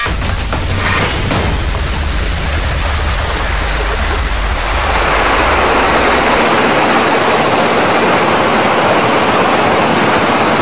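Fast river water rushes loudly through a narrowed channel toward a micro-hydro water wheel, a constant roaring wash that grows fuller and brighter partway through, close and with no talk.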